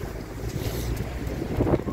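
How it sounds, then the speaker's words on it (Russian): Strong wind roars and buffets the microphone continuously in a park by the new Baku railway station, a loud rushing gust with rumbling low-end bursts throughout. "И все крушит, такой сильный ветер."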